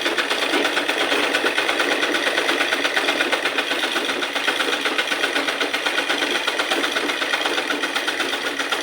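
A sewing machine runs steadily, stitching the seam of a fabric cup with a fast, even mechanical whir that stays close and continuous throughout, with no voices.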